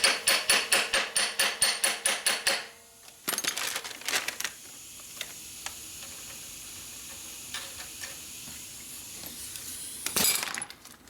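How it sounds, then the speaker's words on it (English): A sledgehammer pounds a sprocket onto a 1972 Harley-Davidson 1000cc Ironhead Sportster, about a dozen quick ringing metallic blows in a row, followed by scattered clinks, taps and a final clatter of tools. "Have to beat it on with a big sledgehammer like we did last time."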